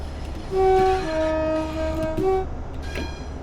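A Transport for Wales Class 150 Sprinter train in Train Sim World 6 on the Cardiff City network, with a steady low diesel rumble and a couple of short horn tones sounding over it.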